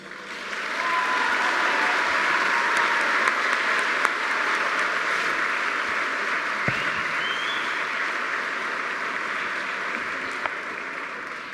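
An audience at a Fulbright awards dinner breaks into loud, sustained applause to welcome a speaker, dense clapping filling the room evenly for several seconds before easing slightly.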